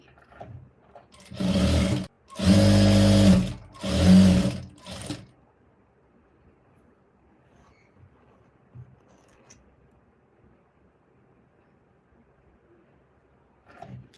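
A sewing machine stitches a blouse seam in three loud close bursts of motor whirring with short pauses between, followed by a long stretch of near silence.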